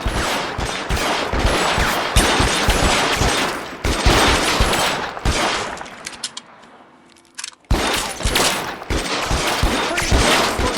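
Dense, rapid gunfire from a shootout in the L.A. Noire video game, with overlapping cracking shots and bursts, loud and close, broken by a brief quiet lull before the barrage resumes.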